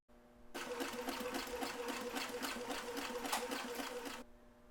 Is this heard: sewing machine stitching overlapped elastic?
yes